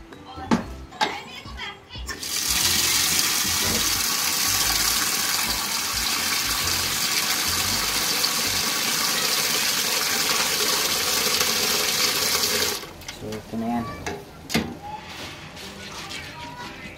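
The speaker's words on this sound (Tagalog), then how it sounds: "lagyan natin ng tubig." Tap water gushes steadily over pumpkin seeds in a container to soak them before planting, a loud continuous pour lasting about ten seconds, with children's voices and chatter before and after.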